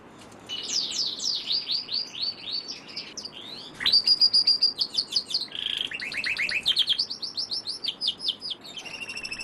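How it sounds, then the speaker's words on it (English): Canaries being bred on a city balcony sing in bright rapid trills and repeated chirping phrases, close and clear, with no talk over a faint background hum. "he's devoted himself to breeding canaries on his balcony."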